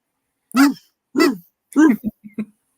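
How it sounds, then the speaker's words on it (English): A dog gives three loud, evenly spaced barks followed by two quick, softer yips, heard close and alone in silence. "that's what a dog sounds like"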